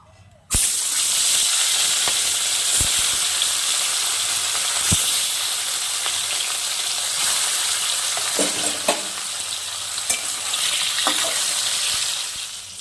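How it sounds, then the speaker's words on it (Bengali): Fish sizzles loudly in hot mustard oil, a dense steady crackling hiss that bursts in suddenly and continues, with occasional faint knocks of a utensil. "এবার আমি মাছটাকে ভেজে নেব।"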